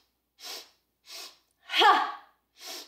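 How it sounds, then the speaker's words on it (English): Yoga breathing done as four sharp nasal sniffs, each a short burst separated by silence, the third stronger and longer with a voiced edge, close and clear with no talk. "Starting with the breath in three sniffs."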